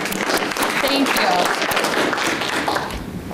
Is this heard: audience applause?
yes